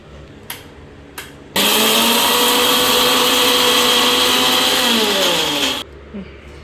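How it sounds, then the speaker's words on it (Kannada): A mixer grinder grinds red chillies in its jar, starting abruptly into a loud, steady motorized whir that holds for about four seconds before cutting off. A few faint knocks come before and after. "ಮೊದಲು ನಾನು ಮೆಣಸಿನ ಹಣ್ಣನ್ನು ಫಸ್ಟು ಗ್ರೈಂಡ್ ಮಾಡ್ಕೊತೀನಿ"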